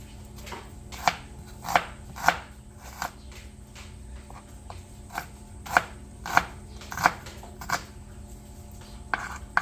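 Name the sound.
chopping onions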